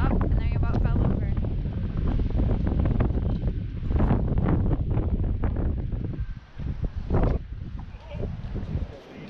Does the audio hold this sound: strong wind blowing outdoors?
yes